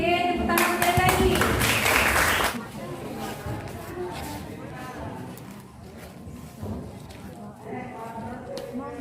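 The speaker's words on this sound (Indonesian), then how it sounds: "tepuk tangan sekali lagi" A group in an indoor breathing-exercise session claps together in a brief, busy burst of about two seconds, followed by a voice speaking over quieter room sound.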